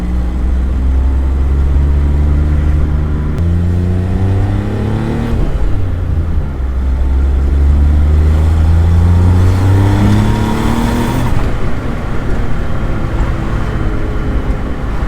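A Daihatsu Charade GTti engine, restarted after sitting for ten years, runs loudly and steadily, its pitch climbing and falling in several rev swells, with no voices over it.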